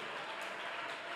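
A church congregation clapping during a prayer day service, heard as a brief, continuous, fairly quiet patter of many hands with no pauses.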